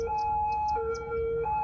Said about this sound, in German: Das war jetzt gerade ein Krankenwagen